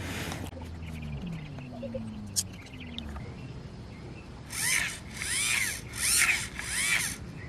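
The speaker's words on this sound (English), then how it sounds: "That is the sound of an engaged servo." A low motor whirs briefly, then four rhythmic whining pulses from an engaging servo on a Sawppy rover rise and fall in quick succession over faint background hum.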